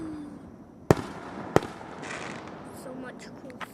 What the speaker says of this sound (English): So much cool fireworks.